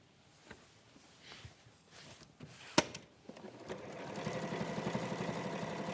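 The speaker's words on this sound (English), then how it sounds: "I'm just sewing these down." A sewing machine stitches down fabric pieces during a live sewing show, its rapid mechanical whirr building steadily in the second half after a few scattered knocks and handling sounds, at moderate level with no talk.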